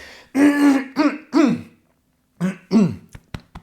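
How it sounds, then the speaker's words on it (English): A few harsh throat-clearing coughs in two clusters, close and loud, separated by a short silence, followed by a couple of faint clicks. "I'm so sorry about the cough."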